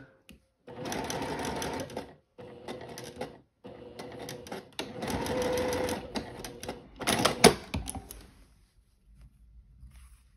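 Sewing machine stitching down a placket piece on a floral sundress, running in bursts of rapid mechanical needle rattle separated by short pauses, close and fairly loud, with a voice talking faintly alongside.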